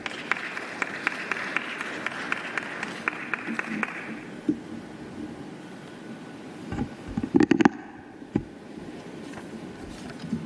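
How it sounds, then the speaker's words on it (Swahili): Audience applause rings out at the closing ceremony of the 10th African Rift Geothermal Conference in Tanzania, a sustained crackle of clapping that fades after a few seconds, then scattered knocks and rustling. "Tumpigie makofi mengi sana."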